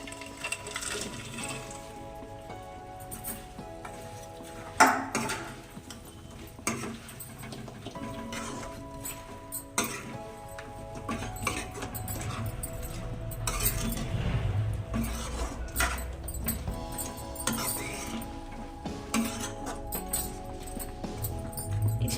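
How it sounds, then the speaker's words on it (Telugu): Chicken being stirred with ginger-garlic paste in a pan for a pickle, with scraping utensil clicks and clatters against the pan over a steady low background sizzle and murmur. "ఈ అల్లం వెల్లుల్లి పేస్ట్ అంతా బాగా కలుపుకోవాలి ఒక వన్ మినిట్ ఇలా కలిపిన తర్వాత"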